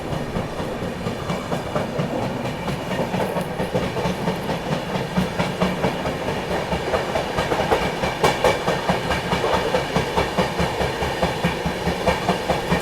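A Rajdhani Express runs beside the Jhelum Express, with a steady, loud rumble of wheels on rail and recurring clickety-clack beats across the whole stretch, heard from on board with no talk.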